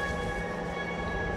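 A Malaxa series 1000 train departing on the Curtici–Arad line, a steady loud rolling rumble and engine drone heard from on board, continuous with no talking.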